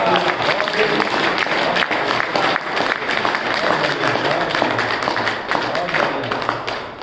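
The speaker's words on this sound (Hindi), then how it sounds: "सबने तालियां बजाई" An audience at a Hindi poetry gathering (kavi sammelan) claps steadily and loudly for about seven seconds, a dense wash of hand claps with voices talking over it.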